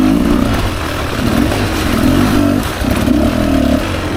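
A 2024 Beta 300 RR Race Edition dirt bike pulls in second gear on a single-track trail, its engine loud and close, droning steadily and rising and falling with throttle through the whole stretch.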